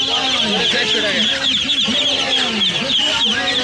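Chickens and ducks at a poultry market in Tongi bazaar, Dhaka, cluck continuously up close, with busy market noise around them and people talking over the birds.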